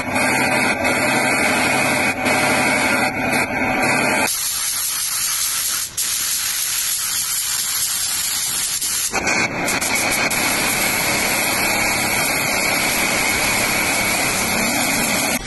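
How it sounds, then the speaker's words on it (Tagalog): A spray gun painting a Toyota Yaris Cross inside a paint oven gives off a loud, steady hissing spray that stops for a few seconds and then starts again, with a fan-like roar underneath. "pinturahan na natin tong Yaris Cross natin"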